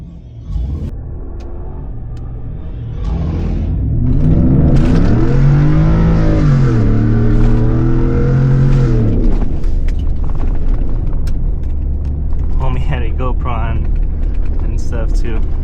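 A Ford F-150 pickup drives off-road, its engine rumbling steadily, then revving up into a rising and falling whine before settling into a loud continuous drone with some rattling.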